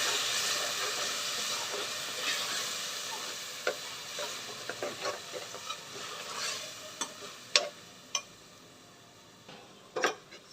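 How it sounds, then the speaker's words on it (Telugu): Water bird meat fries with onion paste in a pan, producing a soft, low-level sizzle punctuated by sharp clinks and scrapes of stirring. "నేను ఈ మాంసానికి ఈ కప్ ఆనియన్ పేస్ట్ వేసుకుంటున్నాను. వేసుకొని ఒకసారి బాగా వేగనివ్వాలి."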